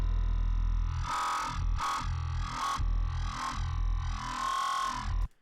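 A deep, distorted FM synth bass growls in repeated swells, its tone opening and closing in a vowel-like wah as a moving EQ shapes it.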